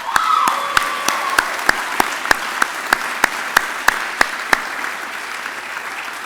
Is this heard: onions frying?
no